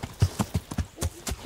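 Horse hooves clip-clop on the ground in the video game Kingdom Come: Deliverance as the horse is ridden up a mountain, a quick even run of about eight close, distinct hoofbeats.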